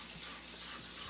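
Tap water runs steadily into a sink as empanada meat filling is rinsed, a constant close gushing wash with no talk.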